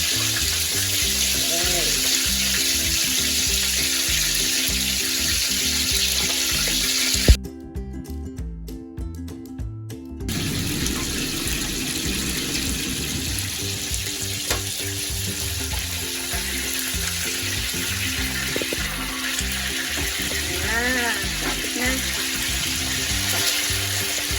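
A red snapper fries in oil in a pan, making a dense, steady sizzle with crackling spatter. The sound cuts out briefly, then the frying returns and continues strongly.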